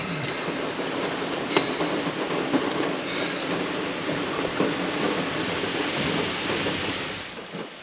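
Heavy rain of a thunderstorm drums steadily on the roof of a parked truck from inside, a dense, loud wash with a few sharper cracks and rumbles spread through it, no voices.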